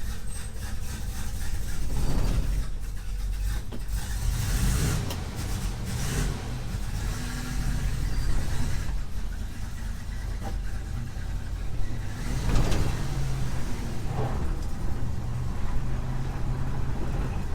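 A 1957 Chevy 3100 pickup truck drives along with its engine droning steadily, overlaid by rough rattling, scraping and creaking from the old body and the wheel and tire setup, and the engine surges now and then.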